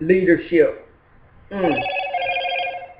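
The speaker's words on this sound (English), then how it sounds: "That's my phone." A telephone rings after a brief burst of talk, its steady electronic ringtone holding for about a second and a half and rising over a quiet room.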